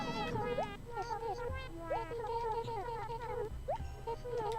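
Chirpy, cat-like babbling from a cat villager in Animal Crossing, rapid meowing syllables over soft background music.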